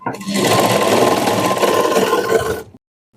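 Sewing machine stitching the front side of a double cut work blouse, one close, steady whirring run of about two and a half seconds that stops abruptly.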